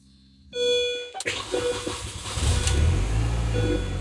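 A Mini Cooper, just repaired after a crank-no-start fault from a corroded EWS module connector, cranks briefly and then catches, settling into a rough, rising idle that grows louder and steady.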